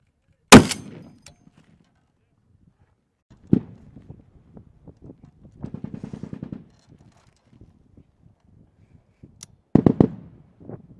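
An M107 .50 caliber sniper rifle fires three sharp, booming shots several seconds apart outdoors, each trailing a short echo, with faint shuffling and clattering between them.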